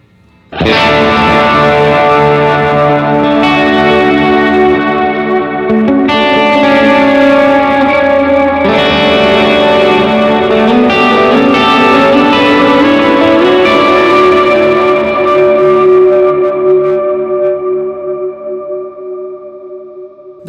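Electric guitar chords play through a pedalboard with delay and reverb, struck in a few loud bursts. Each chord rings out in long, washy echoes that fade slowly at the end.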